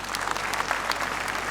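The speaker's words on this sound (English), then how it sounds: "it deserves a round of applause" Applause at a Lagos State University awards ceremony, a dense steady crowd clapping throughout, fairly close and even with no pauses.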